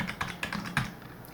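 Fingers tap a short number into a computer keyboard, about five crisp, close keystrokes in quick uneven succession.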